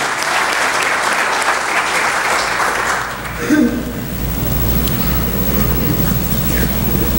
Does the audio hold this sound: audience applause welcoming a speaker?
yes